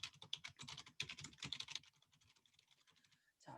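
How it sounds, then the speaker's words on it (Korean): Rapid typing on a computer keyboard while entering a title into a shape in a document editor, a dense run of close, crisp key clicks in uneven bursts, trailing off near the end. "자, 제목 도형을 타이핑을 합니다."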